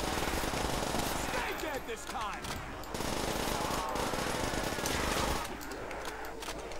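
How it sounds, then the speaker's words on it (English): PP19 Bison submachine gun fire in a Call of Duty custom zombies map, in Sharpshooter mode: dense rapid bursts fill most of the clip, with brief lulls between volleys amid other game noise. "Oh, the PP19 Bison. I love this weapon."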